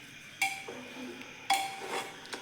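A spoon mixing cooked masale rice in a pot, two sharp metallic clinks against the pot about a second apart, each followed by softer scraping and stirring.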